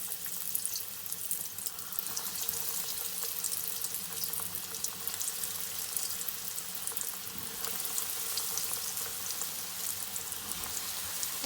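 Potato cheese balls fry in hot ghee, giving a steady, close crackling sizzle that continues without a break.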